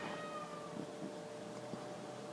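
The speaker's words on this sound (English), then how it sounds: "you may be able to hear my cat in the background." A faint cat meows softly in the background, somewhat distant, over a steady low hum, with no talking.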